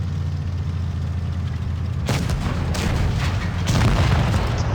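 Tank cannon firing in the World of Tanks Blitz video game, a single sudden heavy boom cutting through a steady low engine rumble, followed by lingering crackling noise.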